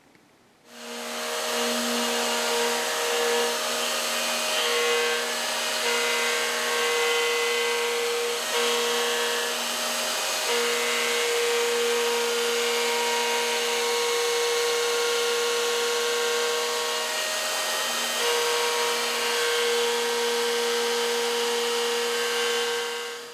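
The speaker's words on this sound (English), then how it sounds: "we'll be able to just do this with the router nice and easy, just taking a handy until we get down to our final depth" A router cuts a pickup cavity into a custom bass guitar body, a loud, steady motorized whine with a rough wood-cutting buzz, running continuously near the microphone after a brief quiet start.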